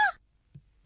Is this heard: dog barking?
no